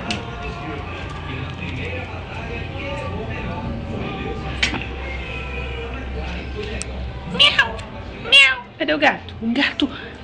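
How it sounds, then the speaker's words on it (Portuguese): A cat meows several times in quick succession, loud and close, after a stretch of low background rumble and faint indoor noise. "Um gato."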